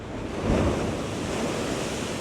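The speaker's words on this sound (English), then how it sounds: "I hope these waves are not going to wash me away" Ocean waves crash and wash continuously on the shore at Viña del Mar, Chile, a loud, dense roar with a swell of surf near the start and wind rumbling against the microphone.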